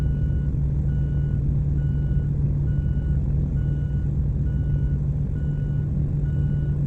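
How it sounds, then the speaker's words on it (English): A MAN 520HN truck engine in American Truck Simulator drones steadily at close range, a deep rumbling idle with a faint repeating beep pattern running alongside it throughout. "this is sounding like a real old school truck"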